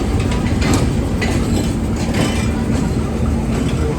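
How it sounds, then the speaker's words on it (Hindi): KCR locomotive GMU15 4819 shunting at a station, a loud, close, steady rumble of engine and rolling rail cars with faint metallic clanks on top, continuous throughout. "ये KCR का लोकोमोटिव GMU15 4819 जो कि यहाँ पे शंटिंग की ड्यूटी दे रहा है"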